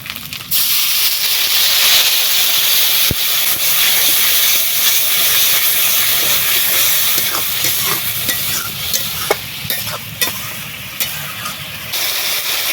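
Spice paste of turmeric and chili powder frying in a pan sizzles loudly as a little water goes in, with a sharp initial burst, then a steady hissing sputter and scattered stirring clicks.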